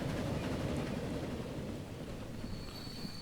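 A train pulls into a quiet station in the game Transport Fever, a steady broad rumble of rolling wheels holding throughout with a faint high squeal rising near the end.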